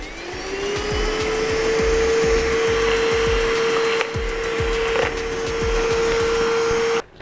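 A STIHL SEA 20 cordless car vacuum drones loudly and steadily up close, with rattling clicks and knocks as a large screw and a battery are sucked into the nozzle, then the motor cuts off at the end.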